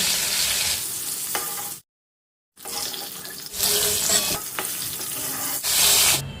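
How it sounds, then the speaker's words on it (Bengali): Whole cinnamon, mace, cardamom and clove sizzle in hot oil left from frying pointed gourd, a bright crackling hiss broken by a short silent gap, then returning louder with stirring and scraping. "এবার আমি এই তেলের মধ্যেই দিয়ে দেব এক টুকরো দারচিনি একটু জৈত্রী একটা এলাচ আর একটা লবঙ্গ"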